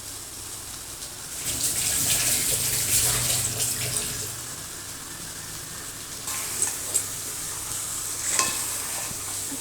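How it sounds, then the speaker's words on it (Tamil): Pepper chicken masala sautéing in a pan, a close, steady sizzle with scraping stirs and louder clattering strokes, no talking. "இதை நல்லா வதக்கிக்கலாம்."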